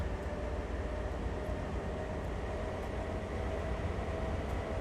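A diesel locomotive on the Sand Patch Grade in Train Sim World 2, a steady low engine rumble and drone with faint periodic ticks and no clear change in level.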